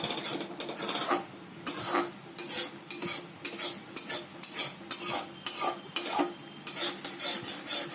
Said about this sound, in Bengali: একটু ভালো করে নেড়ে নিতে হবে।